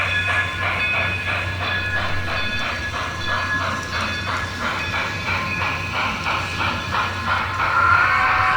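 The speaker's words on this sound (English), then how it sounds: "I am so surprised at how this engine sounds." An N-scale model train locomotive with onboard sound runs steadily with a continuous rumble, hiss and a rhythmic chuffing clatter throughout, and the sound swells a little louder near the end. No one talks.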